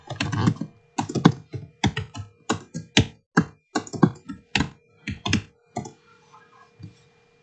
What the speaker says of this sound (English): I'll just type it in now